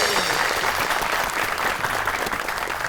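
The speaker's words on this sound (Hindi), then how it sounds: "आपकी बहुत सी तालियों में" Audience applause welcoming guests onto a comedy talk show, a dense sustained burst of clapping from a studio crowd, loud and even throughout.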